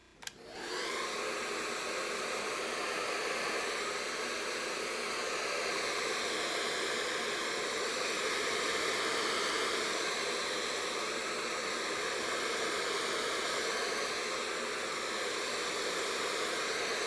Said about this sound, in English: And I'm just blow drying over this section now